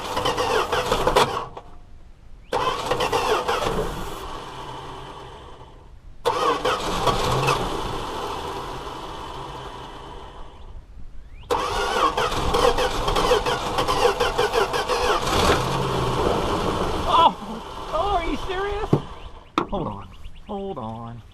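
Engine of a 1971 Plymouth Valiant parked since 2002, cranked on starter fluid: repeated grinding starter bursts with pauses, then a rough rattling idle that sputters and dies, loud and close, with someone talking briefly.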